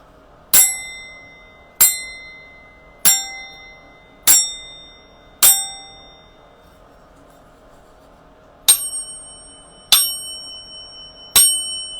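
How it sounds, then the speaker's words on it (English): A chiming bell is struck eight times, each a bright, ringing strike that decays slowly, with five evenly spaced strikes, a short pause, then three more, clear and close in a quiet room. "Let's chime a bell."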